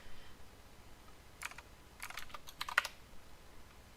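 Typing Python code on a computer keyboard, heard as two short bursts of crisp key clicks in otherwise quiet surroundings, with no talking.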